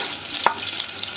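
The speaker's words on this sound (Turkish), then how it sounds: "Soğanlar hafif pembeleşene kadar kavuracağım." Finely chopped onion sautéing in melted butter in a pot gives a soft, even hiss for a brief moment, with one small clink near the middle.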